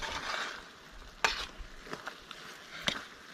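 Coconut filling for pan de coco caramelizing in a pan and being stirred, with a soft hiss and a few sharp scraping clicks of the utensil spaced across a few seconds, close and fairly quiet, no talking.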